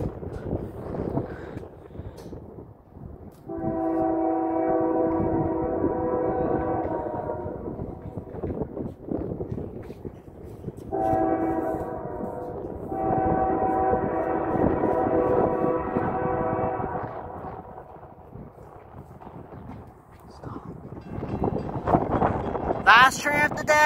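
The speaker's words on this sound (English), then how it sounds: "Last train of the day, Norfolk Southern." A southbound Norfolk Southern mixed freight train rumbles past, sounding two long, loud horn blasts separated by a pause, with a third blast beginning as the rumbling continues.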